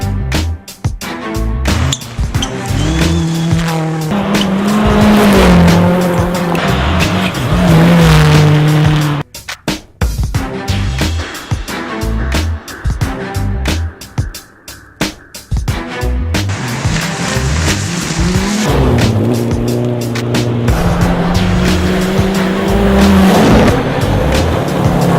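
Rally cars tearing through a gravel stage of the 100 Acre Wood Rally, engines roaring and rising through gears with repeated tire squeals, loud and close, with brief lulls as cars pass and shift.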